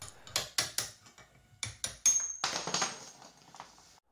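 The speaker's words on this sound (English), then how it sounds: "drove the shells out with a hammer and a chisel type" A hammer striking a chisel to drive bearing shells out of a heated aluminium block, a series of sharp metallic taps in an irregular rhythm, close and fairly quiet, with a brief high ring partway through.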